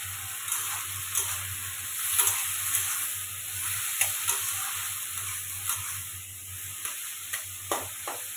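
Fried eggplant and shrimp sizzle together in a pan, a soft steady frying hiss broken by repeated scraping and stirring clicks throughout.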